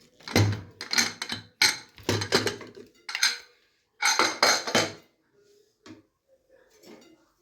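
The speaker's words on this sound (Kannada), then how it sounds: "ಕುಕ್ಕರ್ ಮುಚ್ಚಳ ತೆಗಿತಾ ಇದ್ದೀನಿ." A pressure cooker lid is opened after cooking mutton sambar, giving a run of close metallic clanks and scrapes that fade to a few faint clinks at the end.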